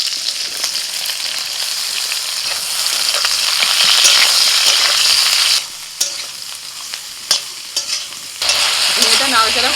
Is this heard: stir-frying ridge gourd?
yes